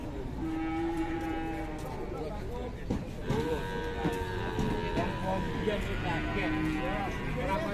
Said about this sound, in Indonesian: Sapi akeh gitu.